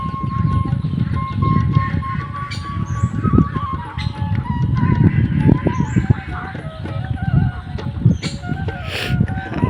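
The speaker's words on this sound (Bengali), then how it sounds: "হাঁস" Ducks call beside floodwater, with honking quacks breaking out at intervals over a busy outdoor background of murmuring voices and clatter, moderately close and varying in loudness.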